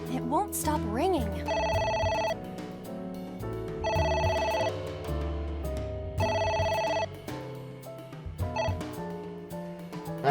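A telephone in AI: The Somnium Files rings in repeated bursts of a bright electronic bell, pausing between rings, under game music and sound effects.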